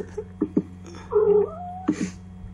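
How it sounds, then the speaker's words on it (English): A cat gives a drawn-out meow in the middle, framed by a few short, soft sounds before and after; fairly close and alone, with no talk. "Oh, it's a cat."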